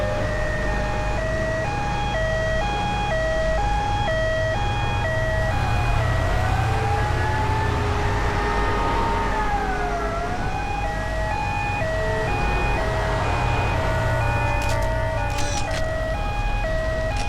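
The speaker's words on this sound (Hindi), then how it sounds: "एम्बुलेंस!" An ambulance siren wails continuously, its pitch rising and falling in a steady cycle over a constant low rumble, loud and close without pause.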